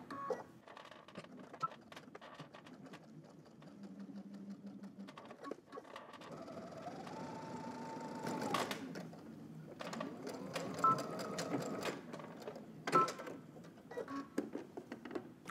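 A sewing machine stitching a second row of topstitching on jeans, its motor whirring in runs with rhythmic ticking and clacking, interrupted by brief pauses and fabric handling, close and moderately loud.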